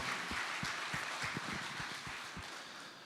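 An audience at a Ukrainian business talk applauds in a steady, even wash of clapping that fades slightly toward the end.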